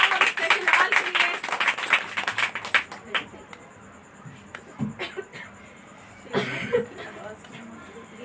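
A church congregation at a Monday evening worship meeting claps loudly and densely for about three seconds. The applause then thins out into scattered claps and quiet room noise.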